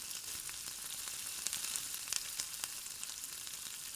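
Garlic and green chillies fry over a low gas flame while being stirred, with a constant hissing sizzle and scattered small crackles and scrapes, fairly quiet and close, no voices.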